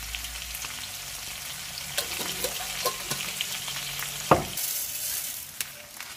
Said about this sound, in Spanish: estamos echando el tomate frito